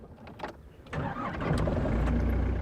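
A car engine cranks briefly, catches and settles into a steady, fairly loud idle close by, with no one talking.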